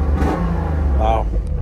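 A two-door Mercedes-Benz convertible's engine rumbles steadily up close with a brief rev, while a person talks over it.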